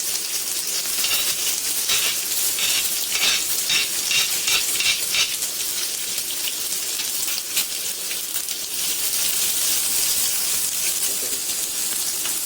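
Onion and vegetables with green chilli sauté in a pan over medium flame, giving a steady, close sizzle with scraping stir strokes throughout and no talk.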